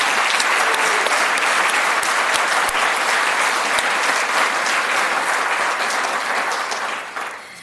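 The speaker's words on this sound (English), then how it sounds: "loud round of applause" An audience at a scholarship luncheon gives student speakers a loud, steady round of applause, dense clapping that holds strong before tapering off near the end.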